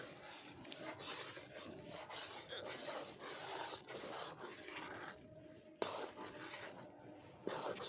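Flax seeds stirred into golden roasted gram flour in a pan give a soft, continuous dry rasping and scraping, quiet and close, with a couple of sharper clicks of the spoon near the end.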